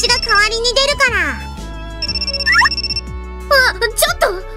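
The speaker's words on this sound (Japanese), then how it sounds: "電話には私が代わりに出るから" A telephone rings in a Japanese visual novel game with an electronic ringing tone in repeated bursts, mixed with voiced character dialogue and background game music.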